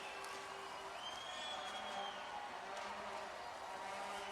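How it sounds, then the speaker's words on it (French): Hockey crowd in a junior arena, Shawinigan Cataractes against Sherbrooke Phoenix, applauding as a distant, steady wash of clapping with faint cheering and arena noise. "Foule qui applaudit."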